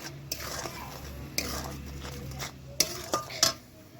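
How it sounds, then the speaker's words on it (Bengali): A spoon stirs sugar as it melts in a pan on the stove for rice naru, with soft scraping and a few sharp metallic clinks near the end. The sounds are close and fairly quiet. "এবার নেড়ে চেড়ে চিনিটা একটু গলিয়ে নেব"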